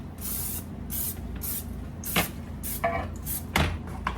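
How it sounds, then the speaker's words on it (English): Several short hissing bursts of Pam olive oil cooking spray into a casserole pan in quick succession, close and moderately loud, with small clatters between them. "I'm going to spray the casserole pan."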